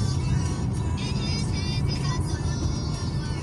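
Slow road traffic with trucks and cars, a steady dense engine rumble that stays close and continuous throughout, with faint voices mixed in under the traffic noise.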